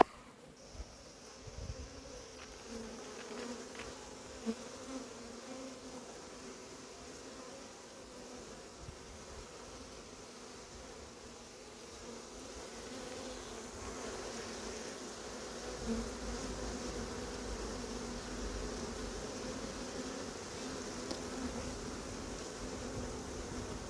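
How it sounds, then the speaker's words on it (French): Steady insect buzzing of a honeybee swarm being hived, a continuous moderate hum with occasional sharper bursts, no voices. "Certaines abeilles vont descendre dans la ruche, bien sûr."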